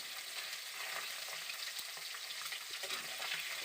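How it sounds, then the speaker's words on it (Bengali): Rohu fish pieces fry in hot oil in a wok, giving a steady, dense sizzle with faint crackles throughout, close by and without talk. "এক পিট বেশ ভালো করে ভাজা হয়ে গেছে এবার আমি উল্টে নিচ্ছি মাছগুলোকে"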